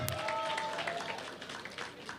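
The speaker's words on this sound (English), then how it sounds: "Give yourselves a round of applause" Parents in an audience at an evening scholarship information event give steady, faint applause that fills the space, with a voice briefly heard at the start.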